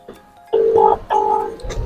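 Two bursts of telephone keypad dialing tones sound in quick succession as a phone call is placed for a prank, fairly loud and close with short quiet gaps.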